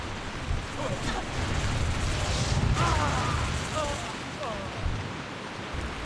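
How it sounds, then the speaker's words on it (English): Steady rain in World of Warcraft, a dense continuous hiss with faint rumbles, forming a loud even wash of game weather throughout. "It's been raining for like an hour."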